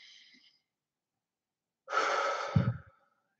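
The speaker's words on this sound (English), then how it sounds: "So take another deep breath with me." A slow, deep breath drawn in and let out alone in a quiet room as part of a guided presence exercise, with a faint breathy sound at the start and a fuller exhale near the end.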